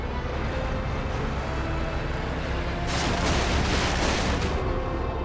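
G1 Optimus's vehicle-mode weapon in the Transformers: Revenge of the Fallen video game fires a dense, rapid stream of shots over steady background rumble, growing louder and harsher in a sustained burst midway.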